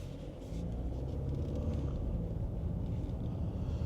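Genesis GV70 moving through motorway traffic, a steady low road rumble and engine drone inside the cabin with no break in the noise.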